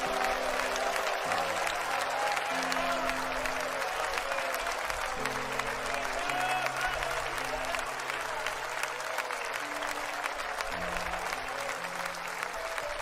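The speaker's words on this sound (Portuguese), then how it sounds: "dê uma salva de palmas para Jesus" A church congregation gives sustained, even applause for Jesus, many hands clapping steadily with sustained tones underneath.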